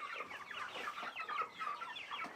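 Chickens on a farm cluck and chatter in quick overlapping calls, a small flock heard close and fairly quiet, with no one speaking.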